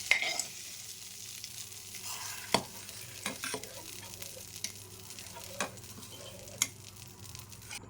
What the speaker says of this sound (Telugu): బాగా మరుగుతూ ఉంది